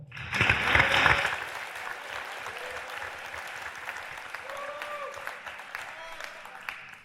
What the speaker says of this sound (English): And so congratulations to you. You're going to be a great success at Bates, and a round of applause.